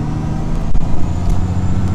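Car cruising along Route 12 near home, a steady low road rumble and engine drone from inside the passenger vehicle, with a brief dip and swell midway and no talk.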